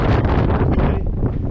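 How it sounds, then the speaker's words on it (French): Strong gusting wind buffets the microphone on a mountain hike in the Pyrénées-Orientales, a loud, rough, broadband roar that stays dense and steady before easing slightly near the end. "c'est horrible là, le vent"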